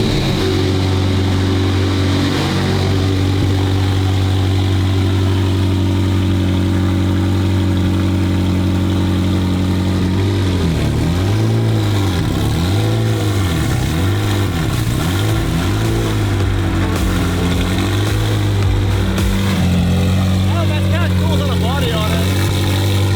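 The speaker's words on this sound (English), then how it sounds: "Fire it up and let's take it outside because with it idling in here, we're all gonna have a problem." A McLaren 720 GTR engine runs at a loud, steady idle indoors, its low drone rising and falling in slow swells partway through, with voices now and then under the engine noise.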